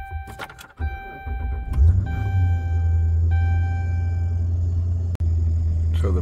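A 2011 Ram 2500HD heavy-duty pickup with its transmission stuck in limp mode cranks briefly and then starts, settling into a loud, steady low idle rumble close by, with a short sharp click near the end.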